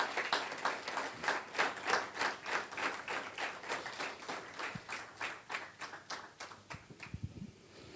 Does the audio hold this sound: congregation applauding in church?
yes